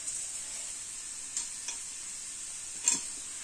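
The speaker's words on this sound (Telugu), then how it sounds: "ఇదంతా ఇట్లా మిక్స్ చేసేసుకోండి, పల్లీల మీద వేసుకొని కలిపితే చాలా బాగుంటుంది అన్నమాట" Dry masala stirred through roasted peanuts in a bowl, a steady soft rustling hiss with a few light scrapes and one sharper clink near the end, close by and without talk.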